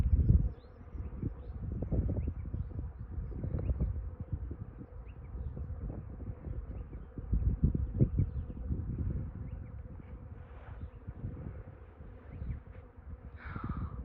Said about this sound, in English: I'm filming this so you can hear the buzzing. I'm guessing it's bees